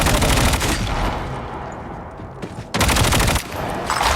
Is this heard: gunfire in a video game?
yes